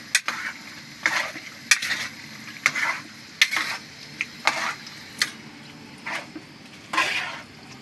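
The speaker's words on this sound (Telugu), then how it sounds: "బాస్మతి రైస్ తీసుకొని మటన్ కర్రీ చేసుకుంటున్నాము" Mutton curry being stirred and fried in a pot, a spoon scraping in a steady run of about a dozen short strokes over a continuous sizzle, close by with no talk.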